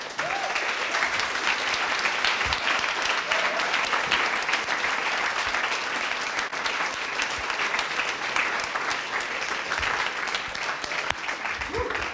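Steady audience applause at a coding bootcamp demo day in Montreal, a sustained, even wash of many hands clapping for several seconds, moderately loud and without talk.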